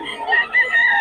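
A rooster crows loudly and close by at a crowded chicken market in Bocaue, one short strident call filling the moment with no talk over it.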